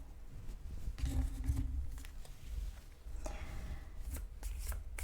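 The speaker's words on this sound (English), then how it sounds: "And we will continue shuffling for pile number 2." Tarot cards shuffled by hand, a series of close, crisp riffles and soft slaps at an irregular rhythm, quiet and alone without speech.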